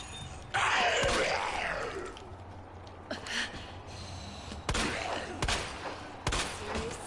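Gunfire in Resident Evil 2 Remake sounds as a loud burst followed by several sharp, separate shots spaced over a few seconds, set against a dim background with faint groans.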